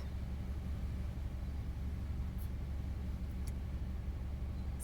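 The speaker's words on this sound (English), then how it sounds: "I'm in this Subaru." A Subaru car driving, heard from inside as a steady low engine and road rumble with constant hiss, no talking, and a couple of faint high clicks.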